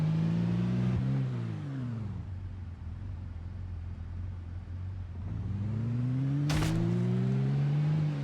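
A fire truck engine in Project Zomboid revs up and down in the foreground, loud and steady, with a sharp click partway through and no talking.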